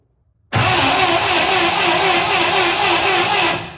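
A 1963 International Scout's 152 Comanche four-cylinder engine turning over on its starter: a sudden, loud, steady mechanical churn lasting about three seconds before fading.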